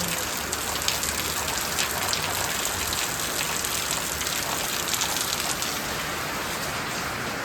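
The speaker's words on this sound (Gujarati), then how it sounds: "પાછો વરસાદ વધી ગયો હવે" Heavy rain pours steadily, a dense unbroken hiss of drops drumming on surfaces all around.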